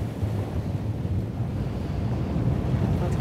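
Water waves lap and slosh around a small boat on open water while wind buffets the microphone. The low, continuous roar holds steady and close throughout, with no one speaking.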